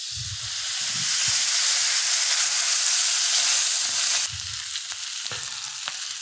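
Onions and peppers sauté in a hot pan with a loud, dense, continuous sizzle up close, joined by occasional soft clinks and scrapes of stirring; no voices.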